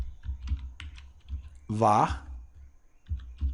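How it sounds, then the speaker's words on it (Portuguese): Bursts of computer keyboard typing while entering a MySQL database server setup command, clusters of light quick key taps separated by pauses, with someone speaking briefly in the middle. "Você vai digitar o seguinte:"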